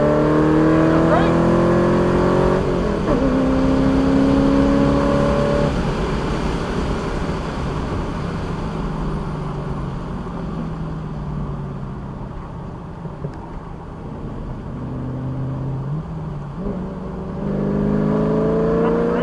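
A car lapping an open race track with an instructor aboard gives a steady, loud engine drone from inside the cabin, its pitch rising and falling through acceleration and shifts over about twenty seconds.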